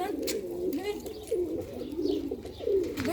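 Pigeons coo repeatedly in soft, rolling low-pitched calls, several birds close by with a bit of background noise.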